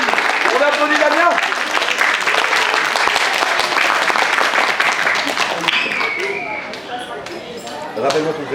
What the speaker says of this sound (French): On applaudit Damien